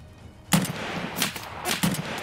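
Gunfire from a gun in the video game Escape From Tarkov: three separate sharp shots or short bursts spaced irregularly across a couple of seconds, fairly loud and close, with no talking.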